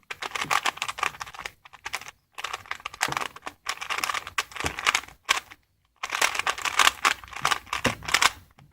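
A modded Rubik's brand cube, lubed with silicone and restickered, is turned quickly by hand. Bursts of close clicking and clacking run in irregular flurries, with brief silent gaps between them.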